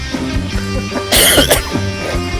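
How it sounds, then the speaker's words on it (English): A single harsh cough bursts out loudly between stretches of low humming and background noise. "I'm sorry for my cough"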